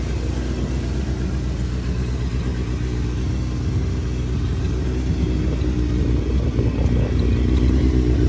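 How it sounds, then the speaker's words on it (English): A motorcycle engine idles steadily with a low, even rumble that holds constant the whole time, with no voices. "Bike is idling and running."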